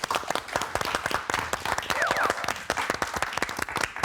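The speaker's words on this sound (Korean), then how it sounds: "박수로 청해 듣겠습니다" An audience gives a round of applause at a Korean talk on national health insurance coverage, with many hands clapping in a dense, lively rhythm nearby and a faint voice briefly under it.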